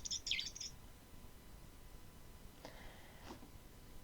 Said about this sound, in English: the sound of the bird from Peter and the Wolf